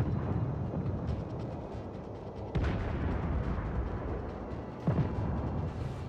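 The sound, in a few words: naval gunfire exchange in World of Warships video game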